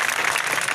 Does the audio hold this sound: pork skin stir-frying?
no